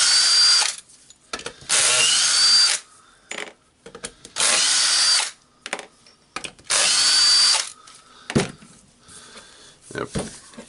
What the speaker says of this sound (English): we need to unscrew the screws here.